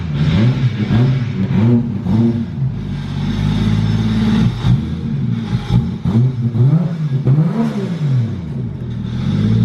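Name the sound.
car engine revving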